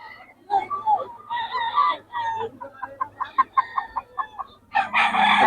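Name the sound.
chickens clucking and rooster crowing at a poultry market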